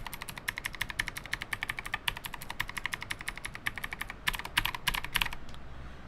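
Typing on a keyboard fitted with black clicky NMB space invader switches, RT8756CNW model, gives a dense, continuous stream of crisp, loud clacks at a fast, busy pace, close-up with no voices.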